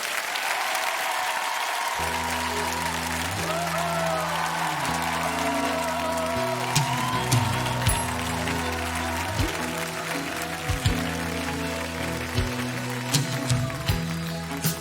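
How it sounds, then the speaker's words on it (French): Studio audience applauding singers on a French TV duet show, steady dense clapping that carries on as a music intro with sustained tones begins underneath. "Merci de les applaudir"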